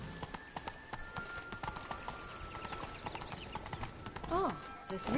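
Horse hooves clip-clopping at a steady riding pace in The Witcher 3, a continuous rhythmic patter with a brief whinny near the end, under faint game ambience.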